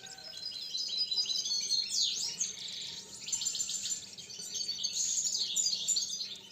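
A goldfinch sings in quick, tinkling chirps and twittering trills, bright and close, coming in bursts over a faint, steady outdoor hiss.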